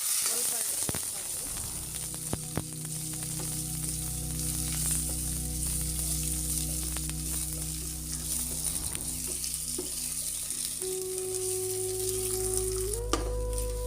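Curry leaves and chopped onion sizzling steadily in hot oil in a pan, a loud continuous frying hiss with occasional clinks of a stirring utensil.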